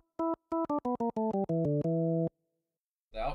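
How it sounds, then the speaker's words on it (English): Nord keyboard played dry with the rotary pedal bypassed, a quick run of short detached notes stepping downward, ending on a held note with a little reverb tail, then a brief noise at the end. "I'm going to bypass it first of all so you can just hear the Nord"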